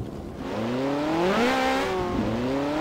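A Ferrari engine in Garry's Mod revs up with rising, whining tones, then dips and climbs again, loud and close throughout.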